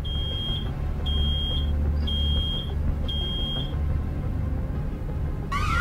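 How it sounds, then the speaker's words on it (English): An electronic alarm in the video game Road 96 beeps in four steady, evenly spaced bursts over a low rumbling background, then cuts off. "Oh no, something's beeping."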